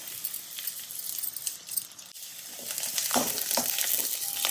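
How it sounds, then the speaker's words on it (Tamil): Finely cut onion and whole garlic sautéing in a pan, a continuous close sizzle with stirring scrapes and a brief metallic rattle, the frying growing louder toward the end. "பொடியான நீட்டாக வெங்காயம் லைட்டாக வதக்கணும்."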